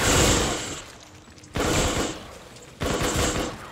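Rapid automatic machine gun fire in the video game Call of Duty: Infinite Warfare, heard as three loud, dense bursts with short pauses between them and no speech.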